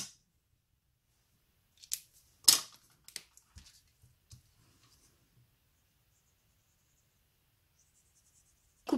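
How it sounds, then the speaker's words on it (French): Stabilo Pen 68 felt-tip pens colour a card in brief, faint scratchy strokes separated by long silences, close up, with no voices. "Et je vais la coloriser avec mes Stabilo Pen"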